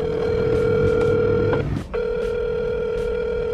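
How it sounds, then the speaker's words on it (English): A phone call placed through Siri rings out with a steady electronic ringback tone that cuts briefly and resumes, loud and close with no talking. "Siri, call Casey."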